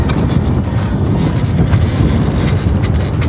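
A strong wind gust hits a sailboat beating upwind with one reef in the main and one in the genoa, a steady loud roar of rushing air and wind buffeting close to the microphone throughout.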